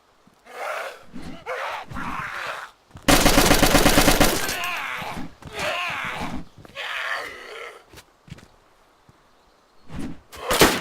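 Mosin rifle gunfire in the video game DayZ, a loud sustained burst of rapid shots in the middle, with people talking and exclaiming before and after.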